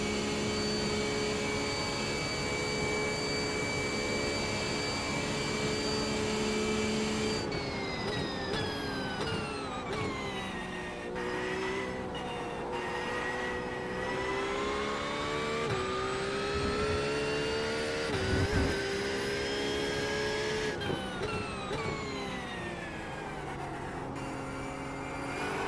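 Sustained high-pitched race car engine of a Mustang in iRacing at Daytona, droning loudly and steadily with pitch sweeps as it shifts and accelerates, with no talking.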